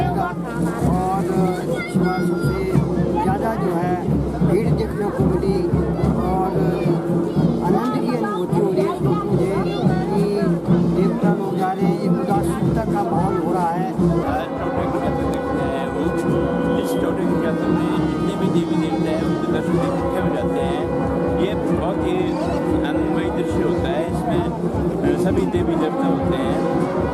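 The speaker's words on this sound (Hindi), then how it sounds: "इस बार सबसे ज़्यादा जो है भीड़ देखने को मिली" A dense crowd at the final day of a village fair, with a constant loud wash of many voices, chatter and bustle, plus some rumbling background noise, filling the whole stretch without a break.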